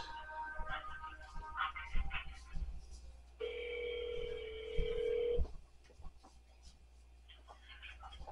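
A telephone rings out on a call to a Walmart Pharmacy, one long steady ring tone heard alone in the middle of the clip, with quieter room noise and faint handling before and after.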